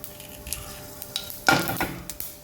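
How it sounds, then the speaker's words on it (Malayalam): Mustard seeds crackle and pop in hot oil, with a sharp burst of spattering midway and faint sizzling underneath. "കടുക് നന്നായിട്ട് പൊട്ടി വരട്ടെ"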